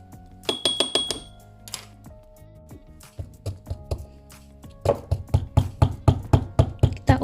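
Garlic cloves and salt are pounded in a stone mortar, a series of sharp rhythmic knocks in bursts, close and fairly quiet, with a steadier run of strikes toward the end.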